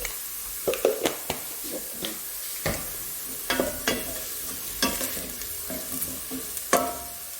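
Meat fried with cumin and spices in a pan for Bukhari rice, stirred in repeated scraping bursts over a steady background sizzle, close and moderately loud, with no talking.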